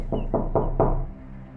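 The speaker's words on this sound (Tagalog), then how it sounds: "biglang merong kumatok" Four firm knocks on a wooden door, evenly spaced and close by, followed by a quiet pause with low room hum.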